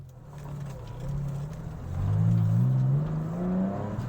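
A Porsche driving out in South Mississippi, its engine humming low then swelling as it accelerates and revs, falling back slightly near the end, heard close and alone without talk.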